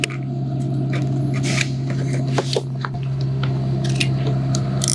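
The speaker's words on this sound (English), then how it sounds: "Then all we do now is cut our slots in for our rope." Blade cutting slots for the rope into a Keder tent panel over a steady low hum, with several crisp snips and crunching cuts close by.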